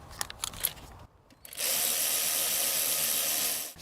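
Cordless power tool whirring steadily as it tightens an intake boot clamp on a 2005-2018 Toyota Avalon during an intake manifold gasket job, a brief clatter of handling first, then a sustained close buzzing run.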